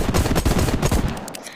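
A rapid string of pistol gunshots in the VR shooter Hard Bullet, fired close and loud in quick succession and then cut short.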